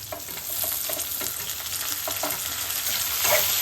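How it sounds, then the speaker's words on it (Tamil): Shallots and tomatoes sizzle steadily in hot oil in a pan for radish sambar, with light spatula strokes scraping through the frying at close range. "தக்காளியும் நல்லா வதங்கும்"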